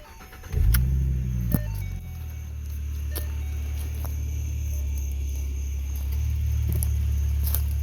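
A Ford Mustang engine cranks and catches with a brief rev, then settles into a steady, low rumbling idle close by, with a slight rise in engine note toward the end.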